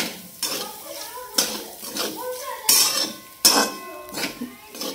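Peanuts go into sabudana in a cooking pan: a series of sharp clinks and rattles spaced a second or so apart, with metallic scraping from stirring between them, close and fairly quiet.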